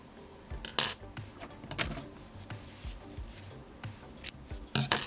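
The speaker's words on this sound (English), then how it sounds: "now I can cut my yarn" Scissors snip through yarn at the end of a crocheted baby hat, giving several soft, close clicks and crisp cuts spread over a few seconds amid quiet handling noise.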